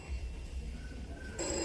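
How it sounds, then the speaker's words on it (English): A telephone rings faintly in an office setting, a thin electronic ring rising out of a low room hum near the end, with no talk over it. "Ah, that's the phone ringing."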